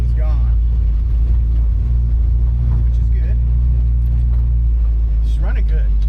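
A 1963 Ford Falcon engine idling steadily with a loud, deep low rumble close by, while a person talks over it.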